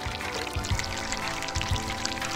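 Water splashes down onto a character in the video game Chronology, a steady pouring rush that lasts throughout with a couple of soft low thumps mixed in, loud and close.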